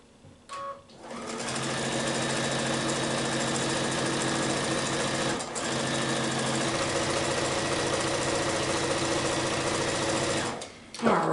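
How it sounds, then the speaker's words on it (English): A sewing machine stitches a line down a quilt block, a loud steady mechanical whir running nearly the whole time with a brief pause midway and a start and stop at the ends. "I'm going to sew it down the other way, the other side, on the other line"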